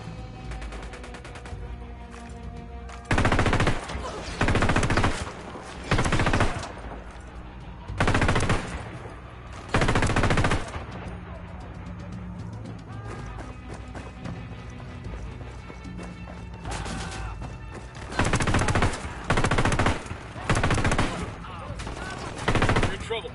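Rapid bursts of machine gun fire in the video game Ghost Recon, several loud sustained volleys breaking out over a steady rumbling game background, with pauses between bursts.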